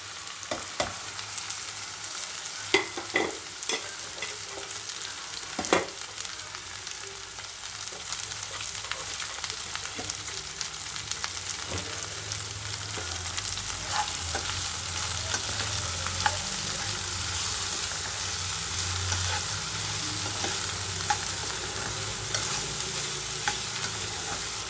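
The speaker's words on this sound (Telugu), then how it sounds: "ఇప్పుడు మనము బెండకాయ ముక్కల్ని వేసుకుందాం." Okra pieces sizzle steadily in a pan after browned onions, a dense continuous frying hiss with occasional scraping stir clicks, close and fairly loud throughout.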